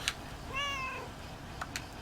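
Cats meow in the video game Lake, with one clear drawn-out meow standing alone over a quiet ambient background, plus a couple of faint brief chirps near the end.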